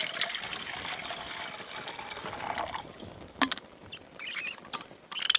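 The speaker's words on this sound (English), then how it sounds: "I'm going to pour in about 8 ounces of water." About eight ounces of water poured into a pot on an alcohol stove: a steady, splashy gush for a few seconds, then quieter with a few sharp clinks and drips.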